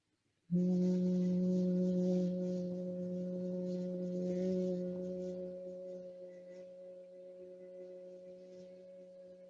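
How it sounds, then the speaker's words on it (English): A nasal humming exhale of bhramari bee breath begins abruptly and holds one steady, buzzing tone for about nine seconds, close and clear, slowly fading in strength toward the end. "nasal sounding hum as you breathe out"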